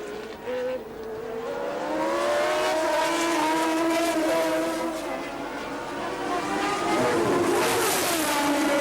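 Nelson Piquet's Brabham Formula One car at the 1981 Argentine Grand Prix, a loud high-pitched engine wail sweeping up and down in pitch as it closes in and passes another car, with a second engine note blending in.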